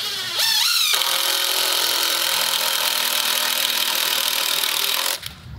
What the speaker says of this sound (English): I'm gonna go in and put some more securing screws in there